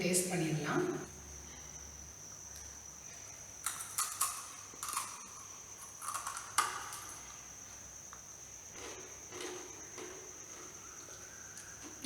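Crisp achu murukku, a traditional sweet fried snack flavoured with cardamom and coconut milk, crunches sharply in a few near bites. The short crackling bursts are spaced out against a quiet background.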